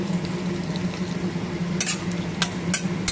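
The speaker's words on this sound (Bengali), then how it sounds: "পুরো পেঁয়াজগুলো আমি দিয়ে দিচ্ছি" Whole onions go into a hot kadai with cardamom, giving a steady close sizzle of frying with a few sharp scraping stirs against the pan, and no voices.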